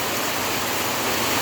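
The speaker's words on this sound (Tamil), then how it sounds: "இப்போ பாருங்கள் மழை பெஞ்சிட்டு தான் இருக்குது" Heavy rain falls steadily in Dharmapuri, a dense, loud hiss of downpour with no pauses throughout the short stretch.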